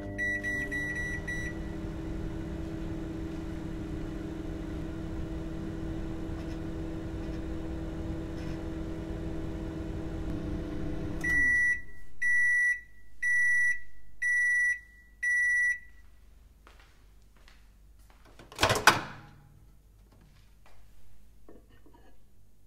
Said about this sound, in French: pourquoi pas l'utiliser pour nettoyer le micro-ondes. Je le fais chauffer pendant 3 minutes